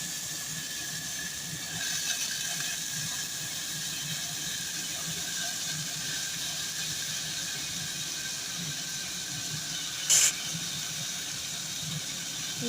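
Small-cut potatoes frying in a pan give a steady, even sizzling hiss throughout, with one brief sharper spit near the end and no voices.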